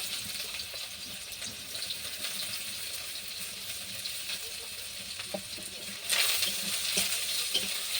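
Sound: chopped onion frying in hot oil

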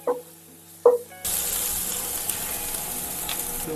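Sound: ginger garlic paste sautéing in hot oil in a pan

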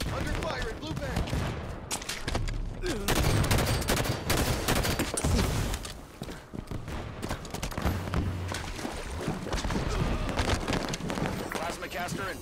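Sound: gunfire in the video game Halo 5

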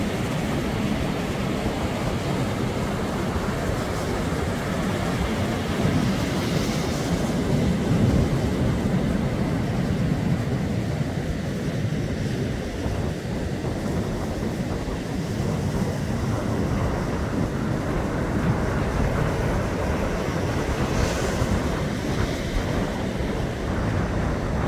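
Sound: rough sea waves and wind

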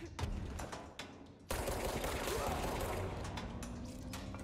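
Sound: enemy exploding in the video game Control

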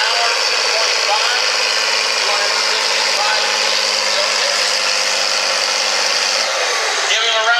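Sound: farm stock tractor engine during a tractor pull

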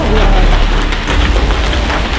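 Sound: hail hitting the vehicle

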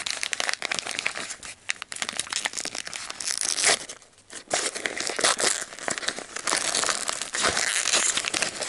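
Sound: unwrapping a small advent calendar package

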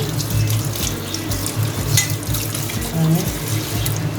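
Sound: rinsing fish in running tap water

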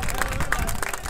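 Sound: football fans of both teams applauding

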